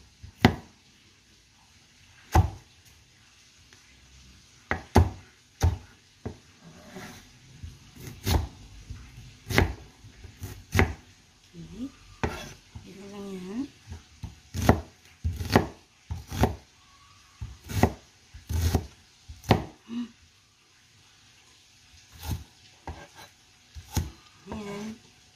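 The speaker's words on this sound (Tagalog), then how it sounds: "white onion. Siyempre, tanggalin natin ito. Ayan, cut din siya natin ng cube." A white onion being chopped into cubes on a cutting board, with sharp knife strikes in irregular bursts, close and crisp, with quiet gaps and faint background sounds between the cuts.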